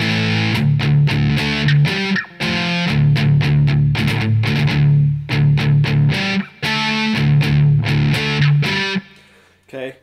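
A heavily distorted electric guitar plays the break section of a song, with loud, chugging, palm-muted chords in choppy rhythmic bursts separated by brief sharp stops.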